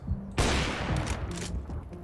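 A sharp gunshot in the video game CS:GO bursts out, followed by a few quicker shots trailing off, loud and close.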